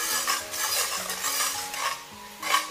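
Rock sugar melting with a little water in a wok over high heat is stirred with a utensil, giving repeated scraping strokes and soft clinks against the metal along with a light bubbling sizzle, close and with no talking.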